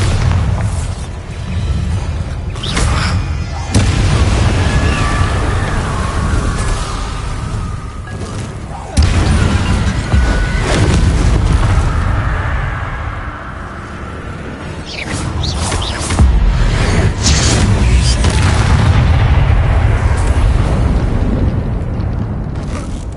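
Bombarda explosion spells blast repeatedly in the Hogwarts Legacy video game, with heavy, loud booms arriving every few seconds over a dense rumbling battle din and occasional shouted voices.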